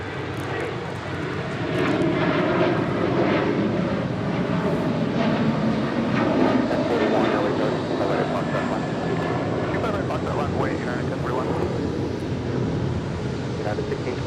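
A fixed-wing aircraft roars steadily down runway 25 right at Los Angeles International Airport on takeoff, a loud continuous engine rumble heard from a distance and lasting throughout.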